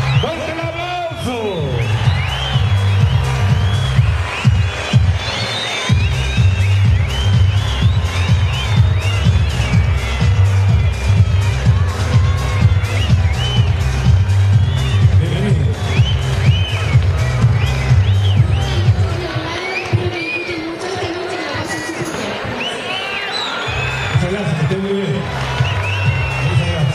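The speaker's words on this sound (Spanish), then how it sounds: "¡Fuerte el aplauso!" An audience at the Miss Rio Claro beauty pageant applauds and cheers loudly and steadily for close to half a minute, with whoops and shouts rising above the clapping and voices heard throughout.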